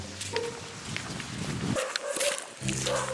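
A dog in a jungle setting near a village gives a few short barks and whimpers, fairly close, mixed with footsteps and faint outdoor noise.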